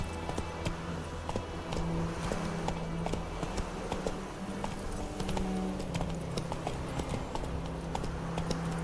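Roach, the horse in The Witcher 3: Wild Hunt, gallops in steady rhythmic clip-clop hoofbeats, close and continuous over a low game-world rumble.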